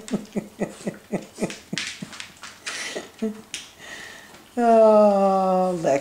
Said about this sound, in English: I don't know why that little doggy irritates you.